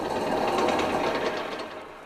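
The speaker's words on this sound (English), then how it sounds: "I can really throttle back on the blower and just supply enough air to keep the fire going" A blacksmith's forge blower pushing air into the fire during forge welding, heard as a close, steady, dense whirring rush that stays even and eases off slightly toward the end, with no talking.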